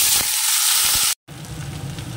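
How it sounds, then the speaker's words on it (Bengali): Nigella seeds and potatoes hit hot oil in a wok with a loud, dense sizzling hiss; after a sudden brief silence, a lower, rougher frying crackle carries on. "দিয়ে দিচ্ছি কালো জিরে, তারপরে এই আলুটা দিয়ে দেবো।"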